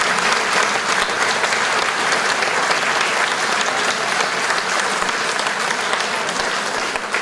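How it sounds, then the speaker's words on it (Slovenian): Loud, sustained applause from a hall audience at a Brežice disabled people's society event, honouring the sound engineer; many hands clap densely and steadily throughout with no pause. "vendar en aplavz tudi on zasluži"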